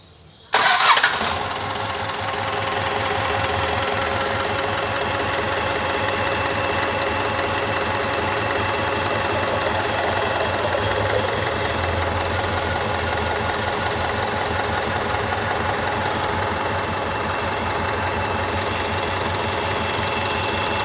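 A car engine cranks and catches almost at once, then settles into a steady, loud idle with a rough mechanical clatter for the rest of the stretch. The car sits in neutral and has a stiff steering wheel.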